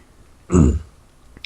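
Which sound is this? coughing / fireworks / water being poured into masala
coughing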